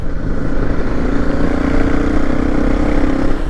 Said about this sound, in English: this bike's got the Arrow exhaust on it, and it's definitely a nice noise